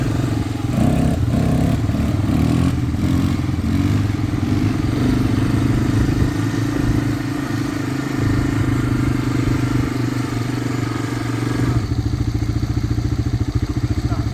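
A 37-year-old, once-abandoned big red Honda off-road motorcycle runs loud and close, its engine chugging and clattering steadily with a shift in tone near the end; no talk over it.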